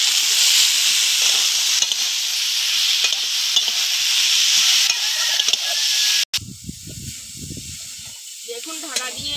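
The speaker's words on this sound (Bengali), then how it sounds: "লবণ, হলুদ দিয়ে ভালো করে সবজিটা কষিয়ে নেব" Vegetables are stir-fried with salt and turmeric for a kochu shak labra: a loud, steady hissing sizzle with scattered scraping stirs, then it cuts off abruptly into quieter clinks and a faint voice.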